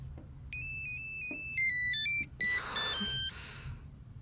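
A mobile phone ringtone goes off during a meeting, a bright electronic melody playing loudly for a couple of seconds, then breaking into short bursts before it stops.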